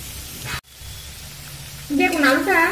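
Potatoes with turmeric and salt fry in a pan with a steady, close hiss of sizzling oil; there is a brief cut early on, and a voice begins talking over the frying near the end.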